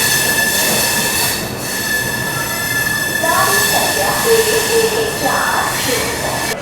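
The Patliputra Superfast Express pulls out of Itarsi Junction, a loud, close rumble of railway carriages with high wheel squeals rising and falling throughout.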